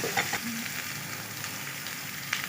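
Onions frying in spoonfuls of country ghee give a steady, moderate sizzle throughout, with a few faint clinks of stirring on top.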